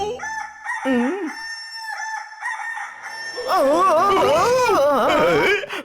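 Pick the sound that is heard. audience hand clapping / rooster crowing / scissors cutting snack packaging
rooster crowing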